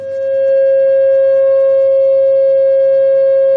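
A loud, steady 540 Hz pure sine tone fades in quickly and holds unwavering at a single mid-high pitch, with a faint low hum beneath it.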